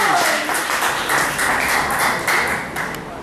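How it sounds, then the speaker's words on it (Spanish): A church congregation applauds loudly during a Spanish-language Sunday morning sermon, a dense, steady wash of clapping with scattered sharper claps that holds through the whole stretch and eases slightly at the end. "¿Cuánto le damos un aplauso fuerte a Jesús?"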